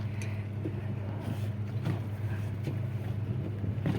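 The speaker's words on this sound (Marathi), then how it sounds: "ही बघा ही बोट याला टो करून नेत्या ही नेव्हीची बोट आलेली आहे" At sea in Vijaydurg creek, a boat tows the navy ship INS Guldar, heard as a low rumbling engine drone under wind buffeting the microphone, with faint scattered knocks and no clear voices.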